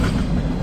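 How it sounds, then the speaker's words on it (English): A CSX freight tanker train passes at night in high winds and rain, a brief, steady, close and loud rumble with no voices. "Looks like it's going to be a tanker train."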